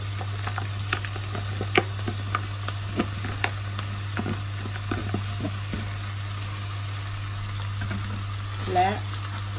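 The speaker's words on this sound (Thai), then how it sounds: "ตอนนี้ก็ใส่หมูเลยนะคะ" Minced pork sizzling and frying in a pan for a pasta dish, with scattered spatula taps and scrapes against a constant low hum.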